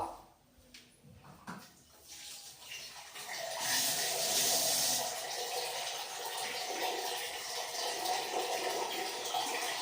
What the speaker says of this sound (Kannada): ಇನ್ನು ಸ್ವಲ್ಪ ನೀರು ಹಾಕ್ಕೊಳ್ಬೇಕು.